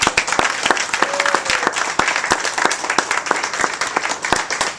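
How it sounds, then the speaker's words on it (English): A crowd applauding steadily, dense overlapping claps filling the whole stretch at a close, loud level. "Let's give them a round of applause."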